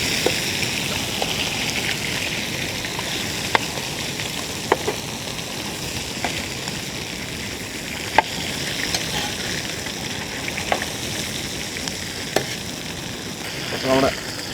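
Karimeen fish wrapped in banana leaf frying Kerala-style in a pan, a steady close sizzle throughout with occasional small pops and crackles, ending in a brief louder bubbling burst.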